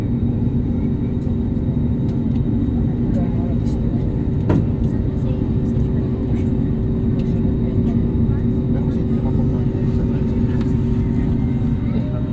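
A Cebu Pacific airliner's engine spools up in the cabin, a steady loud low rumble with a faint whine layered above and a brief clunk partway through, while people talk softly in the background.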